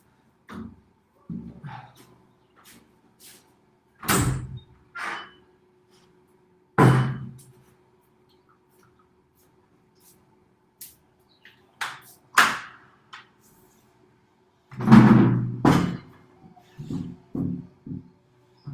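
Doors in a warm room being opened, a series of scattered knocks, thuds and rattles, some sharp and loud with quiet gaps between, no talking.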